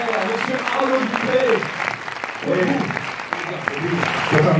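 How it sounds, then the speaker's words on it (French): Theatre audience applauding the performers at the end of a show, a steady wash of clapping throughout with voices talking over it. "On peut les applaudir bien fort, mesdames et messieurs."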